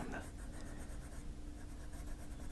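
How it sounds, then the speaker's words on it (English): A colored pencil scratches across paper in close, soft, repeated strokes, with a quiet rhythmic texture and a faint low hum underneath. "sound of this pencil is coming through"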